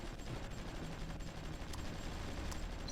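Artillery bombardment rumbles in the strategy game Supreme Ruler Ultimate, faint and distant, a low continuous roll of muffled booms with no voices over it.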